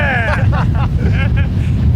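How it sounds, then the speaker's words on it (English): Strong Arctic wind at the Arctic Circle off Greenland buffets the microphone with a loud, continuous low roar, while a voice talks over it throughout. "And it's cold and windy! Very, very windy."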